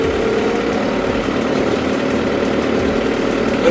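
A heavy engine idles loudly and steadily up close, a constant low rumble with mechanical clatter throughout.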